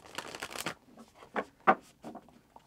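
Tarot cards being shuffled in quick riffling bursts, close and fairly quiet, with brief pauses between shuffles.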